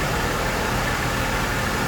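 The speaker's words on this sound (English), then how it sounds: "I'm gonna give it some revs and see." A crashed Mercedes engine runs close by with a steady, unbroken hum; the pitch and loudness hold level throughout.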